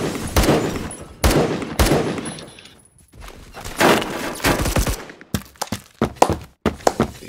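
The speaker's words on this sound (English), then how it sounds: "someone is shooting me and didn't hit me" Gunfire in Roblox Phantom Forces: loud close bursts of shots in uneven clusters, separated by brief quiet gaps, then a rapid string of sharp single cracks toward the end, with no talking.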